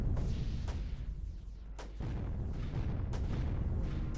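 Mortars in Creeper World 3 fire in a series of sharp, spaced booms, each a quick punchy thump, about five shots over a low rumbling bed with no voices.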